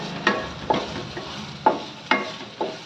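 Roasted gram powder being stirred through hot oil, several scraping strokes in an irregular rhythm close by, over a faint low sizzle, with no voices.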